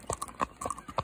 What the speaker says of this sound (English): Now we're up here with the horses.